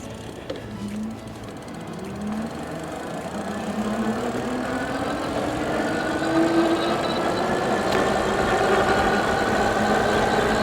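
A Vanpowers Manidae electric bike cruising on throttle alone at speed, with a steady motor whine and a rising tone under continuous wind and road rush that grows slightly louder over time.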